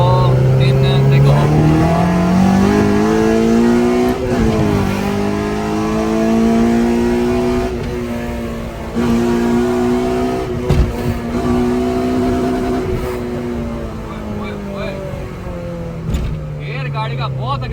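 A Honda-engined car, B18C Type R or K24, pulls hard in sixth gear from inside the cabin, its engine note climbing and dipping in long drawn-out sweeps, loud and close, with voices talking over it at times.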